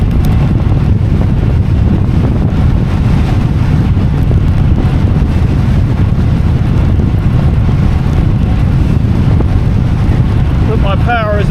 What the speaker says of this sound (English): the wind, I hope, is about 30 miles an hour stronger